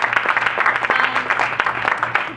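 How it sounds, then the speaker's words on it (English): An audience applauds the kids at a gathering, a short burst of continuous clapping from a group, fairly close, with a faint hum beneath. "can I give another round of applause to all the kids who did something really good job"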